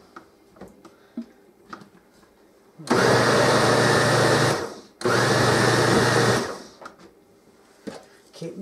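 A blender grinds soaked beans into a thick batter for bean fritters, roaring loudly in two long bursts of about two seconds each with a short pause between. Quieter clatter and handling noises come before and after the bursts.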